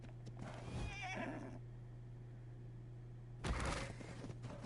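A horse neighing in the video game Ark: Survival Evolved on the Ragnarok map, a clear whinny up close followed after a pause by another loud burst, with faint hoof clops and no talking.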